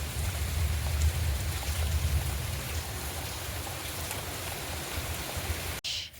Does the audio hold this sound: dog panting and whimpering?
no